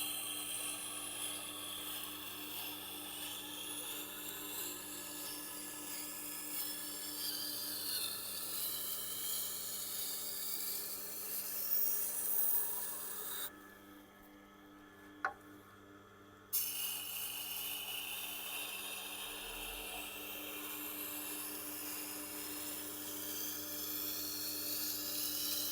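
A knife ground on a Tormek sharpener: a low, steady motor hum with a faint rubbing drone, quiet and continuous, dropping out briefly partway through before resuming.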